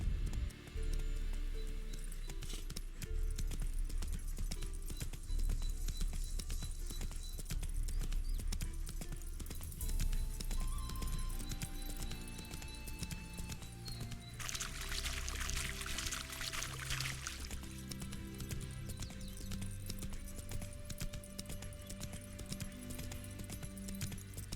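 Horse hooves in The Witcher 3 video game, a steady clip-clop running throughout amid game music and ambient sound, with a brief whinny-like noise and a burst of hissing noise midway.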